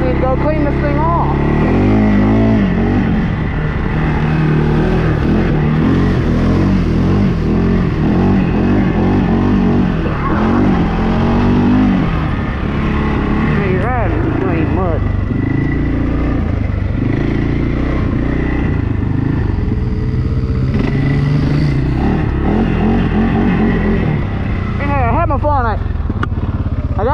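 A four-wheeler ATV churns through deep mud, its engine revving hard and droning loudly throughout with wheels spinning, while someone talks over the noise now and then.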